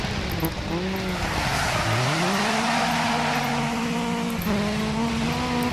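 A small rallycross car in DiRT 4 racing during a World Rallycross Championship finale, its engine droning with rising and falling pitch as it shifts and corners, close and steady with no speech over it.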